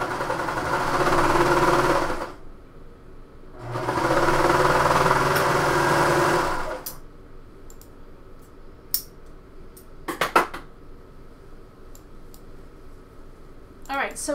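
A sewing machine runs in two sustained bursts stitching the side seams of a bomber jacket, followed by scattered clicks and handling noises, with a voice talking.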